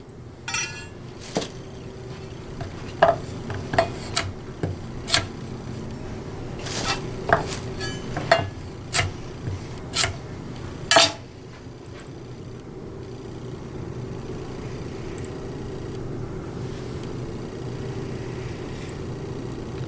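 A purple carrot is cut on a board with a Turbo kitchen knife: about a dozen crisp, separate chops in an uneven rhythm, close by, followed by several seconds of quiet room noise.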